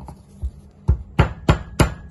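A nub of ginger is pounded in a mortar for masala chai: a few soft taps, then a run of five sharp, evenly spaced thuds, loud and close.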